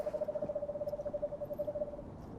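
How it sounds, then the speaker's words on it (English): A screech owl calls at night in a winter forest, a single steady whinny-like trill held for about two seconds at moderate distance, with quiet woods behind it. "There's nothing else like the sound of a screech owl."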